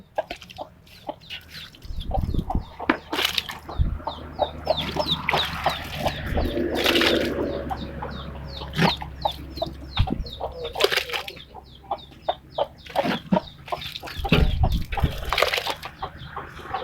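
Chickens and ducks feed on boiled taro mixed with rice bran close by, with frequent overlapping clucks and squawks and scattered pecking thumps and bursts of louder calling.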